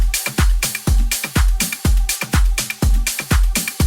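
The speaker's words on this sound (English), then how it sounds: "I added this simple 909 ride" In a melodic house drop, a 909 ride cymbal hits on every offbeat between punchy kick drums, giving a steady, loud, driving four-on-the-floor groove with bright metallic shimmer.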